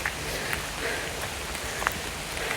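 Steady rain patters continuously in a forest, with scattered louder drops tapping nearby leaves and surfaces; no voices.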